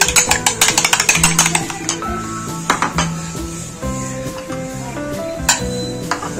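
An egg being beaten for coating beef shami kababs, quick metallic clinks and stirring taps against a bowl, close and fairly loud, over a steady background hum with tonal noise.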